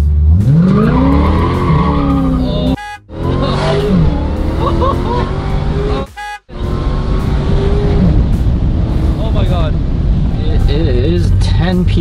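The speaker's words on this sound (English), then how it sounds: "click the launch button, launch control, floor the gas." Standing burnout at launch control with a Dodge Demon: loud engine roar and screeching tire squeal fill the clip, cut by two brief silences, with a voice talking over parts of it.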